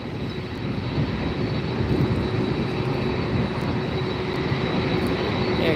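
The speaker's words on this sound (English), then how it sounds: "the WestJet up in the air" Steady, loud jet roar of a WestJet airliner taking off at Los Angeles International Airport, a continuous broadband rumble with a faint high whine, holding evenly throughout with no talk.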